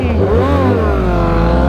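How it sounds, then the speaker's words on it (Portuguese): A Honda CB 1000 motorcycle with its stock exhaust roars close and loud, the engine note rising and falling as it revs, with a voice briefly over it. "É só a moto que tá fazendo barulho, né?"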